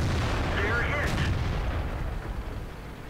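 A tank cannon fires in a tank video game, one loud booming shot that rolls out into a long fading rumble with some busy background noise beneath it.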